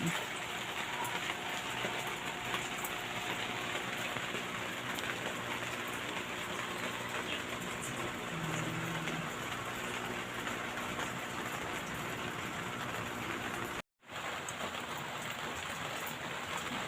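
Steady rain falls outdoors beside aquariums holding pet fish, a dense continuous hiss with patter on surfaces that runs without break for about fourteen seconds before a brief cutout, then resumes.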